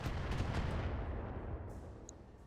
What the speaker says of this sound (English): he's instantly firing on this military building